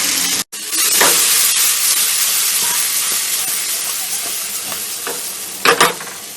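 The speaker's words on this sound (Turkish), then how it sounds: "Domatesimizi de atalım." Tomatoes for a spinach pasta's mushroom-tomato sauce land in a hot pan and set off a loud, steady sizzle and hiss that holds throughout, with a few brief stirring clatters near the end.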